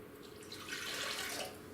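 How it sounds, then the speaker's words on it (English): A cup of water pours into a mixing bowl in a home kitchen, a short steady splashing stream that swells and fades within a couple of seconds, close and alone. "Now I'm going to add to that 1 cup of water."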